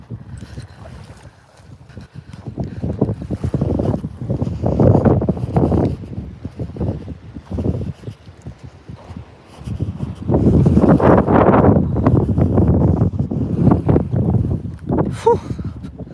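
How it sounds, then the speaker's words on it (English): Strong outdoor wind buffeting the microphone during a walk, loud roaring gusts that swell and ease, with quieter lulls between the heavier blasts. "Oh my gosh, it is windy."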